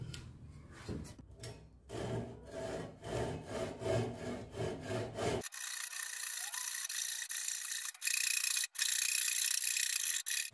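A hand saw cuts through wood to form a joint for a wooden towel rack, with steady back-and-forth rasping strokes for about five seconds before the sound gives way abruptly to a flat, hissing background.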